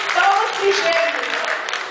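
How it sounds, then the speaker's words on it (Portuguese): A crowd at a school spring festival gives a burst of applause for a pair of twins, dense clapping mixed with cheering and voices from the audience. "Palmas pro gêmeo."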